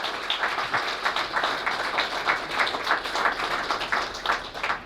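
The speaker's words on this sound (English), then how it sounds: "Can I once again ask you to give a round of applause to our Dysart Distinguished Award" Dense, sustained applause fills a gala awards dinner hall as the crowd honours Distinguished Award recipients, an even roomy wash of many hands clapping with no talk.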